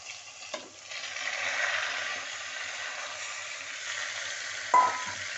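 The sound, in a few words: tomato and onion frying on high flame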